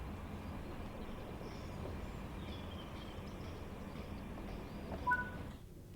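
A Class 380 electric train pulls away on Glasgow's Cathcart Circle in Train Sim World 5, a steady low rumble with faint whining tones rising over it and a brief clunk before the sound drops away.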